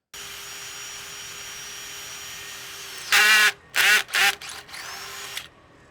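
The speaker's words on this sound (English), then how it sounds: "So now we're going to drill the second hole." A power drill whines steadily, then cuts in with several loud bursts as it bites into material, separated by short pauses.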